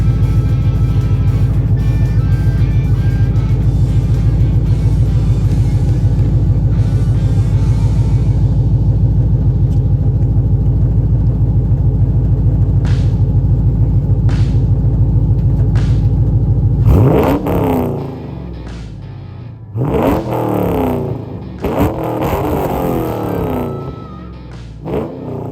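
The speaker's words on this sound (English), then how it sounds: "this exhaust back here sounds amazing. Let me set you up here and you guys can listen as I give it a few revs." A 2002 Chevrolet Camaro Z28/SS 35th Anniversary V8 idles with a deep, loud burbling exhaust, then several sharp revs rise and fall in quick bursts near the tailpipe.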